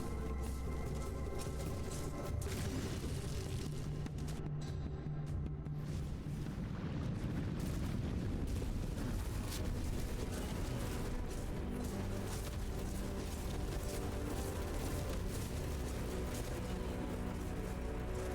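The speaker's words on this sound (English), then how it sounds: "Be careful on the explosion." Sustained loud explosions roar through a video game battle. A dense, rumbling blast wash runs continuously with booming low-end bursts throughout, and no talk is heard.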